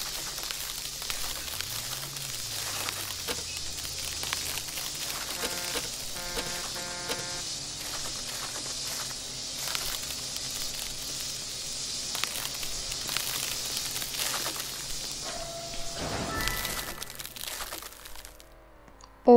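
A car being crushed in the Roblox game Car Crushers 2 gives off a steady crunching and crackling of crumpling metal that lasts throughout, with a few tonal game effects layered over it and no talking.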